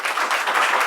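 Loud, dense applause from an audience at a coaching institute event, sustained clapping filling the whole moment without letting up.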